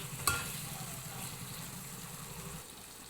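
Half a kilo of chicken curry, seasoned with chili powder and salt, is stirred and fries in a pan with a faint, steady sizzle, a brief scrape near the start, then a quiet, even hiss that fades near the end.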